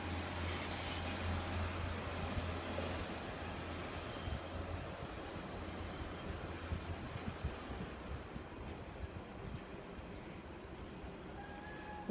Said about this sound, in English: Coming off platform 8 at Doncaster over there will be your 1434 2 Romeo 21 Northern Service from Sheffield to Adwick.